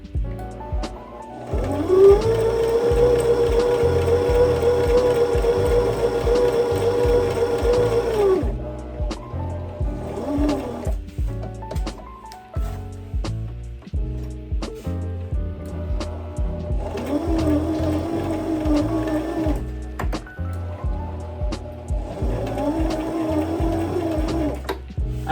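A sewing machine stitches fabric bookmarks in bursts of rapid, even mechanical whirring, a long run first and then two shorter runs, close and loud, with quiet gaps of handling noise in between.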